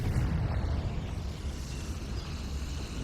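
A Confringo fire spell blast in Hogwarts Legacy, a deep rumbling boom that stays dense and low for the whole stretch, loud and close with no talk.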